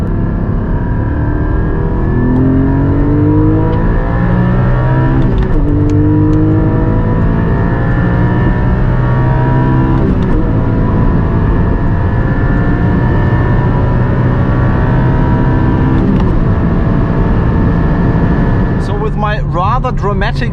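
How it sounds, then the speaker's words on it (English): A Porsche 718 GT4 accelerates hard from 100 to 200 km/h, its engine note climbing steadily through the gears in a loud, continuous rising drone. Brief dips mark the shifts, then a deceleration near the end. "let's now see how fast the GT4 goes from 100 to 200"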